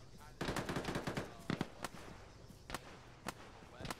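Gunfire in the ShackTac Arma video game, with several rapid automatic bursts followed by scattered single sharp shots, crisp and fairly close.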